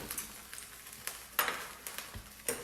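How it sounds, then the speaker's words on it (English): Ground beef fries in butter in a hot pan, giving a faint, low sizzle broken by scattered soft clicks and scrapes from stirring. "the ground beef goes over into the pan"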